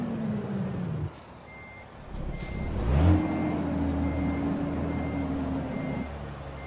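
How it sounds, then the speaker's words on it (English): A truck engine in the American Truck Simulator game cranks and settles into a steady low drone about three seconds in, with a faint repeating beep in the background and no voices. "Tell me that's an engine sound because I just started my truck."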